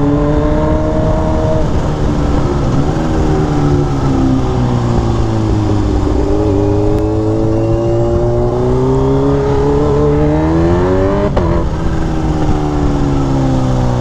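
A Honda Fireblade sports motorcycle roars by on a city street, its engine note rising and falling as it passes close and loud, a droning whine sweeping up and down over several seconds without talk.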